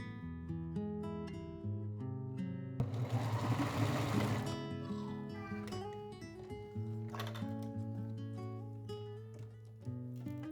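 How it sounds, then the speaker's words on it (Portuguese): A sewing machine stitches around the waist of a simple elastic-waist skirt, running steadily beneath background music, with one louder burst near the start. "E aí, eu vou fazer a costura por toda a volta, deixando um espacinho aqui"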